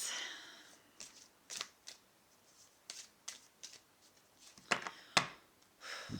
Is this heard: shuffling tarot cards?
yes